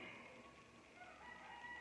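Chickens and roosters crowing and clucking in a faint, continuous background wash, steady and distant throughout with no clear individual calls standing out.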